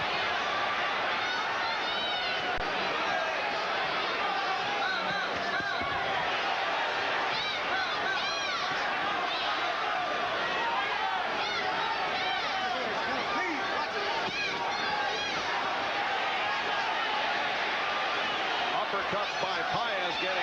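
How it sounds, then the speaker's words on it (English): A boxing crowd in Sacramento screams and roars nonstop through the Tony Lopez vs Jorge Paez IBF junior lightweight title fight. The roar is dense and loud, with a commentator talking over it. "the crowd is screaming."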